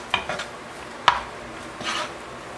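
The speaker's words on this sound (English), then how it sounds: "So now I'm going to saute the onions." Onions are stirred in a pan with leftover bacon grease, giving a soft, faint sizzle with a few sharp scrapes of a utensil against the pan.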